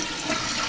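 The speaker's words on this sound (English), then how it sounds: "we'll do a normal flush." Toilet being flushed normally during a fill valve siphon test, a brief steady rush of draining water, fairly quiet and close, with no voices.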